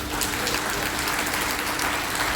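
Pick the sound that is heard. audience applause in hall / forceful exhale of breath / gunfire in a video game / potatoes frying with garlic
audience applause in hall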